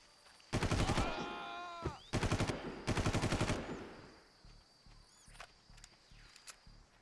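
Gunfire in Far Cry 1: rapid automatic bursts, three loud volleys with echoing tails, then fainter scattered shots and footsteps in the distance.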